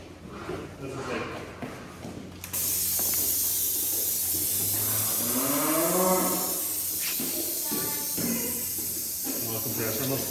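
Dairy cows in a milking yard on a farm in Inishowen, Donegal, with a low moo rising midway over a steady loud hiss of compressed air or spray and background clatter.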